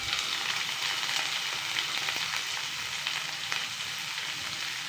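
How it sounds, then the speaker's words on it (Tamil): Mustard and fennel seeds sputter and crackle in hot oil in a pan while a mutton gravy is being cooked, a dense, continuous sizzle with sharp little pops, close and fairly loud, with no talking. "கடுகு சோம்பெல்லாம் நல்லா பொரிஞ்சிட்ருக்கு."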